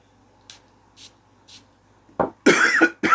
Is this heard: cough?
yes